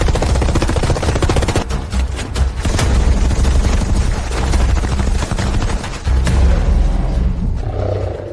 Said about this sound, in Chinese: 帮主，不能看着他们被屠杀，立刻开火压制兽群。